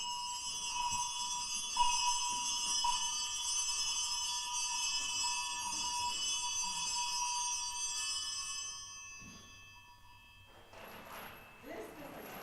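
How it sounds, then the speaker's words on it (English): Every bell in a house rings out loudly as a sound effect in a Christmas Carol reading: bright, sustained metallic tones layered together for about nine seconds before dying away into a low, rough rumble. "he saw this bell begin to swing. It rang out loudly, and so did every bell in the house."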